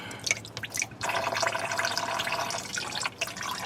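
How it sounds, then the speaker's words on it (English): Engine oil drips and trickles from the oil pan of a 2002 Mustang with a 3.8 V6 during an oil change, a steady close liquid patter with scattered individual drops, no talking. "Let it drip a little bit."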